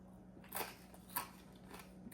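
A bread knife saws through the crust of a chocolate sourdough loaf, giving three faint, crisp crunches spaced about half a second apart, close but quiet.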